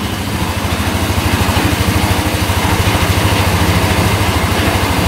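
A repaired UTV engine idles steadily at close range after a fuel pump fix, with an even, rapid low chugging that stays consistent and fairly quiet, with no voices.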